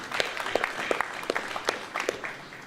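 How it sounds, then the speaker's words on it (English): Audience applause for the MCs at a boxing press conference in Riyadh, a thin, scattered patter of separate claps from a modest crowd, fairly quiet and even throughout, with no voices over it. "Can we please get a round of applause for our brilliant MCs today?"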